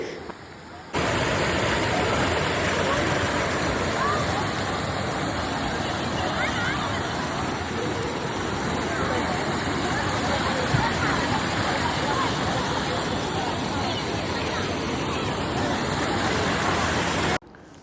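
Kuthirapanchan waterfall with the river flowing above it, a steady, dense roar of falling and rushing water that fills the whole clip at close range, with faint crowd murmur beneath.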